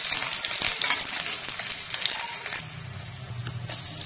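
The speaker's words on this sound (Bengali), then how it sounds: "সরষার তেল দিয়ে ফোড়নে দিচ্ছি দুটো শুকনো লঙ্কা, তেজপাতা, ডালচিনি, এলাচ।" Chopped onion fries in hot mustard oil with dried red chilies, bay leaf, cinnamon and cardamom, giving a steady bright sizzle with scraping, stirring sounds close by.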